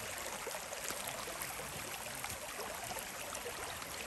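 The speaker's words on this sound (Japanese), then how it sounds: "そしてほどなく小川が見えてきました。" A small brook flows near an alpine lake in the French Alps, a soft, steady trickle that stays faint and even throughout.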